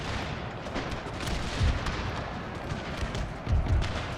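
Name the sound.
cavalry pistol fire in video game Total War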